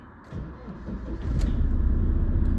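A 14-year-old car's engine cranks briefly and catches, then settles into a steady low idle rumble, close and even, with no talking.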